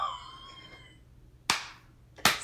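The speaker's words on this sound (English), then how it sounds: "Slow clap." Two sharp, isolated hand claps spaced well apart, a deliberate slow clap after a soft tonal passage fades, each clap loud and close with a short decay.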